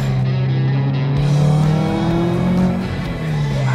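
A tuned Subaru STI engine revs hard and loud up close, a steady throaty drone with rising and falling pitch and no talk over it.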